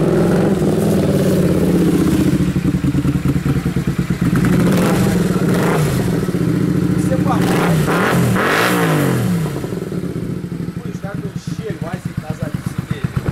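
A Suzuki Intruder motorcycle engine revs up and settles into a loud, steady idle close by, with rising and falling throttle bursts while someone talks over it.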